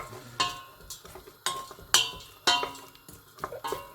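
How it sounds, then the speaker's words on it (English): Onions being stirred in oil in a metal pan with a spoon for a keema madras, giving sharp irregular clinks and scrapes of utensil on pan, close up and alone without talk. "You want to mix all them, give them a nice good mix"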